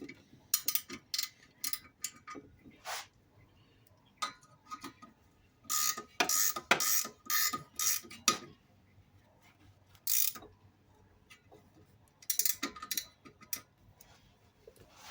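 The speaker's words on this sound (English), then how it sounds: "I'm just going to take my 14mm and tighten these caliper bracket bolts up." A 14mm ratchet wrench tightens caliper bracket bolts on a 1989 Suzuki Swift, giving bursts of close, rapid metallic clicking separated by quiet pauses.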